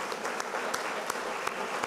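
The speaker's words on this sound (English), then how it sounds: "Let's give a warm applause to Kaiolani Kanihailua" Applause from an audience at the 2017 University of Hawaiʻi at Mānoa awards ceremony, a steady crowd clapping with a few sharper claps standing out, held at moderate level throughout.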